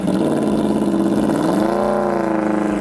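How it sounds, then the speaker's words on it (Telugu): An Aprilia RS V4 Factory superbike's V4 engine revs loudly and close, a steady raspy roar that climbs in pitch partway through and holds high, with no other sound over it. "Aprilia RS V4 మీరు ఫస్ట్ దీని సౌండ్ వినండి"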